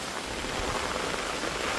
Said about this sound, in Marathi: खतरनाक पाऊस येतोय, खतरनाक.